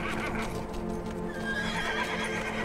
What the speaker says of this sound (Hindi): चल चल मेरे घोड़े चल।